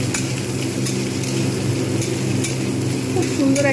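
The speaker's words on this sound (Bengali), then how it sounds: "এইবারে এতে শুকনো লঙ্কা, কাঁচা লঙ্কা আর নারকেল আমি যেটা টুকরো টুকরো করে রেখে দিয়েছিলাম, এটা কিন্তু আঁচ কমিয়ে ভালোভাবে আমি এটাকে ভেজে নেব।" Dried chillies, green chillies and coconut pieces fry in a pan over low heat, giving a steady close sizzle with faint stirring scrapes throughout.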